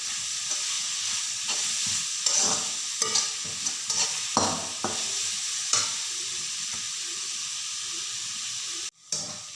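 Curry leaves fry in hot oil for a lentil roast, giving a steady close sizzle and hiss with intermittent stirring scrapes against the pan throughout.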